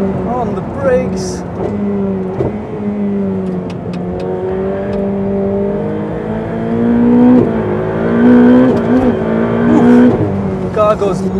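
Ferrari 488 Pista on a track under hard braking, engine note dropping through downshifts with blips and rising revs, loud and close inside the car, with a voice talking over it.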